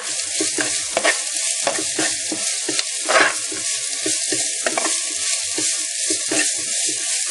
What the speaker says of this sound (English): To the onions, add in your pandan leaf, rumpa, and curry leaves. Give that a good stir.